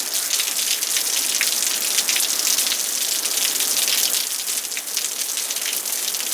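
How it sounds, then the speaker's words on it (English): Heavy rain pours down steadily in Dallas, Texas, a dense, loud, continuous hiss of drops striking surfaces close by, with no break and no voices. "I've never seen Texas get this much rain."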